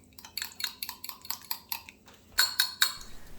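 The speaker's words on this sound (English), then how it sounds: "You can hear the butter popping." Butter crackles and pops in a pan heated on a Mr. Buddy heater, a string of sharp, close ticking snaps in a quick uneven rhythm with a brief pause and a louder cluster near the end.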